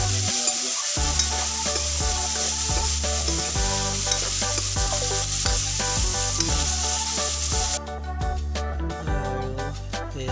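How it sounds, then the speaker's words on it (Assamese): Tomatoes and potatoes frying in a pan with coriander leaves, a loud continuous sizzle over which a spatula stirs in rhythmic scrapes; music plays throughout, growing sharper near the end. "ভালদৰে লৰাই দিয়া হৈছে।"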